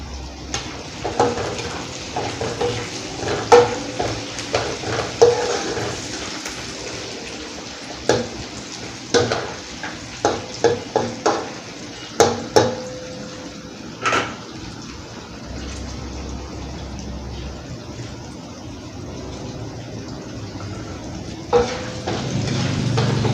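Onions stir-fry in a pan for chicken biryani, a continuous sizzle broken by repeated scraping and clinking stirring strokes, close and fairly loud, with no talking.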